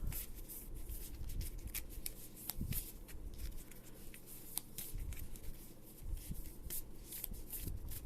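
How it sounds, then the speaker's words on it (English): A deck of Pokemon trading cards is shuffled by hand at close range, a steady run of crisp riffling and flicking cards lasting several seconds, with no talking. "Let's shuffle."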